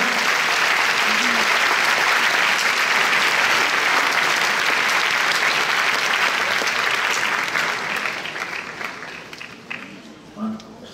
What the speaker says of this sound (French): C'est dommage que les gens arrêtent d'applaudir juste avant les escaliers après.